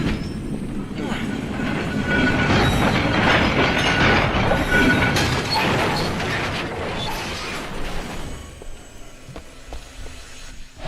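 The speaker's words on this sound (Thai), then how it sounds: "รถรางอันนี้น่าจะดันได้นะครับ" A tram cart is shoved along rails in the video game Siren: Blood Curse, giving a heavy rolling rumble with metallic clatter that swells and then fades near the end.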